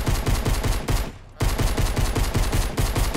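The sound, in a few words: gunfire from a gun in an arena video game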